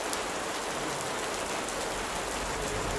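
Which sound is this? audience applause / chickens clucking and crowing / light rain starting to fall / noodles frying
light rain starting to fall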